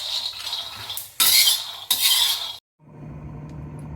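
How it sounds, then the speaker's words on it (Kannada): Peanuts roast in a pan over a medium flame, with bursts of scraping and rattling as they are stirred, two loud clattering strokes, then a brief silence before a quieter, steady sizzle resumes. "ಶೇಂಗಾನ ಹುರ್ಕೊಳ್ಳೋಣ. ಮೀಡಿಯಂ ಫ್ಲೇಮಲ್ಲಿ ಹುರ್ಕೊಳ್ಳೋಣ."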